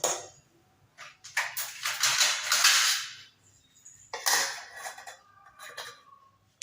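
A lid is set and pressed onto a container of herbal hair dye mixture, giving a few sharp plastic clacks and scraping rattles in short bursts, close up and with no talking.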